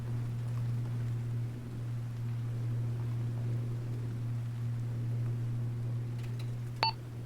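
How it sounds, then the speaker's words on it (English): A distant engine in an Arma battlefield, a faint steady low hum that drones on without a break, with a short electronic beep near the end. "Yeah, that's not an AC unit, that's an engine far out there, isn't it?"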